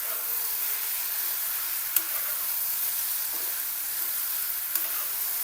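Cowpeas and potatoes stir-fry with a ground paste of peanuts and green chilies, filling the air with a constant close hiss and sizzle, with two brief knocks of the stirring spoon and no talking.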